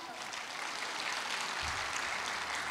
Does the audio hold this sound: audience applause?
yes